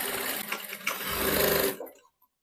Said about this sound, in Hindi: अब यहाँ पे मैं सिलाई लगाऊंगी।